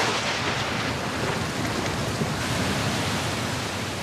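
Heavy rain pours down in a savanna shower, a dense, steady broadband hiss at moderate loudness with a faint low rumble beneath and no voices.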